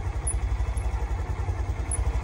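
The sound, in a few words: motorcycle in gear with clutch engaging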